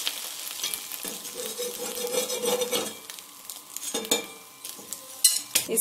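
An egg roll fries and sizzles in a pan as it is pressed down and shifted around, West Bengal style. Scraping and clinking of a utensil against the pan come in short bursts.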